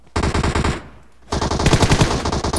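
Rapid automatic gunfire in the mobile battle royale game PUBG Mobile: two loud, close bursts of rhythmic shots separated by a short pause, with the second burst longer.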